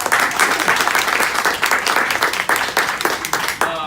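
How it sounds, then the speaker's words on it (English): A crowd applauds loudly and steadily, with dense, close clapping throughout and a brief voice rising near the end. "Round of applause."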